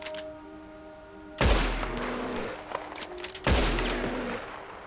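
Two heavy gunshots ring out in the Western video game Red Dead Redemption 2, each a sharp booming crack with a long rumbling tail, spaced about two seconds apart over a quiet ambient backdrop.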